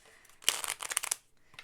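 Tarot cards being shuffled by hand, a quick flurry of close riffling and snapping that builds, then trails off into a short pause and a faint final flick.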